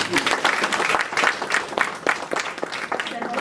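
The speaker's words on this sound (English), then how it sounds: "Let us all give them a big round of applause." Sustained applause from an audience at a valedictory ceremony, dense and fairly steady for a few seconds, with a voice speaking over the clapping.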